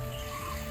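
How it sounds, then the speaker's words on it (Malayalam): A buttermilk and cow urine mixture is poured onto a garden plant, making a brief, steady splashing trickle of liquid, close and even, with no talking. "നമ്മളിപ്പോൾ തയ്യാറാക്കിയ മിശ്രിതം നമ്മുടെ ചെടിക്ക് ഒഴിക്കുന്നു."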